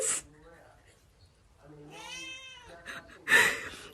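Cat meowing in a drawn-out, wavering cry, close and fairly loud, with people talking and laughing around it.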